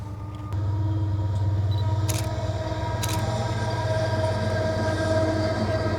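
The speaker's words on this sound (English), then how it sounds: "So I can hear a train on the way." A train rumbles past close by with a steady low drone and hum, with a couple of brief metallic clanks along the way.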